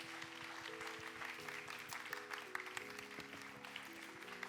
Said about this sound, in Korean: 우리 친구들 큰 박수로 감사의 마음을 담아